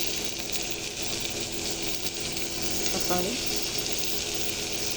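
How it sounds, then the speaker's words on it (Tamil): Tomatoes go into a pan of sautéed onions and fry with a steady hiss and sizzle, and a brief clink of a utensil comes near the middle. "இப்போ நல்லா வதங்கிடுச்சு. இப்போ தக்காளி போட்டுக்கலாம்."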